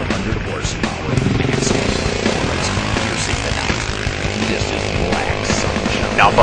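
A Yamaha Grizzly 700 FI 4x4 ATV engine roars steadily through an eighth-mile drag race run, loud and continuous with a constant droning tone and no speech.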